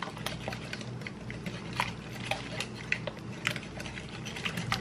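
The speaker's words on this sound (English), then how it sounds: "now I'm gonna mix the wet ingredients together" Wet ingredients for banana bread, including canola oil and bananas, stirred in a bowl with a soft, continuous wet patter and faint utensil scrapes, close and quiet.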